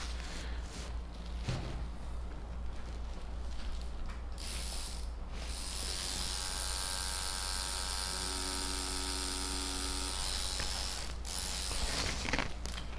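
A tattoo machine runs steadily with a mechanical buzz, used with an 11RL needle to outline a black-and-grey rose; the drone continues throughout, with no talk.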